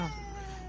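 A cat meows once, close and fairly loud, a short drawn-out call with no talking over it.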